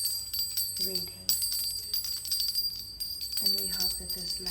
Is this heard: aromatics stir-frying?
no